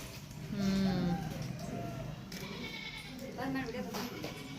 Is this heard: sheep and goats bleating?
yes